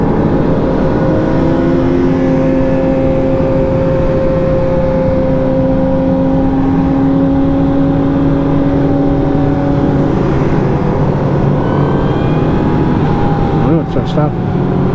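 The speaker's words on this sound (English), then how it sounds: "That's a lot of motorbikes." A constant, loud engine roar as motorcycles stream past, with whining tones rising and falling over a dense rumble.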